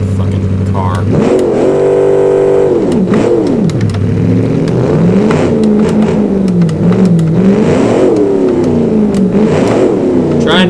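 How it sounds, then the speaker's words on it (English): A Ford GT40 engine in a racing video game revs and shifts loudly and continuously, its pitch climbing and falling in repeated surges under someone talking over it. "I bet it's hard to hear me over the fucking car."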